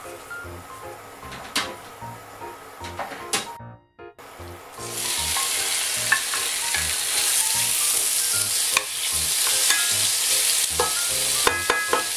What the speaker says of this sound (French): le but, c'est de bien faire rissoler tout ce qui est dans cette casserole